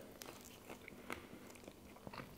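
Someone bites into a smoked pork sausage in natural casing, giving several short crisp crunches and chewing sounds close up, with no talking.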